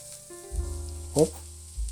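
Carrots and onion frying in a pan for white beet borscht with mushrooms, a steady sizzle that swells briefly when the vegetables are stirred, close and alone with no talk.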